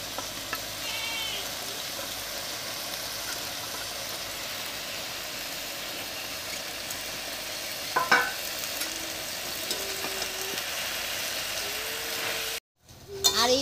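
Chopped spinach goes into a pan of frying eggplant and dried fish. A continuous close sizzle is broken by a few brief stirring scrapes, a short sudden gap and a final clatter, with no voices.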